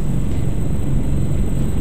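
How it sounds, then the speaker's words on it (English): A steady, loud Beechcraft 1900 turboprop engine in the X-Plane flight simulator drones continuously with a deep low rumble and constant hum, no voices over it. "I'll soon have to turn down the engine noise"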